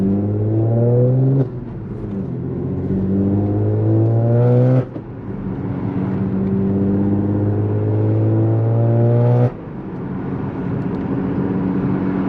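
An Audi S4 engine revs hard while driving, rising in long, loud pulls through the gears with sharp drops at each shift, heard from inside the car.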